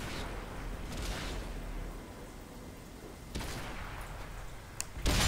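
A tank cannon fires an APCR round in the video game World of Tanks: a sharp, loud blast near the end, following earlier muffled booms over a rumbling background, with almost no talking.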